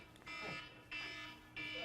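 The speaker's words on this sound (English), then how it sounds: "is that a fire alarm?" A fire alarm sounds in bursts, with three loud repeating tones starting and stopping during a talk about fishing for big trout, and voices in the room underneath.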